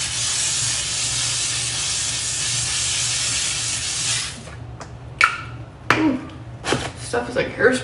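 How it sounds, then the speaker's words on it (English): Hairspray hisses from an aerosol can in a steady spray lasting about four seconds, then stops, followed by a few short handling knocks and rustles nearby. "Stuff is like hairspray."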